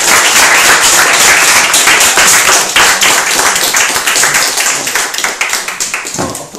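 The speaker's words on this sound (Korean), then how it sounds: "박수 한번." An audience at a human-library talk with a youth welfare counselor claps loudly and densely for several seconds, with the clapping thinning and tapering off toward the end.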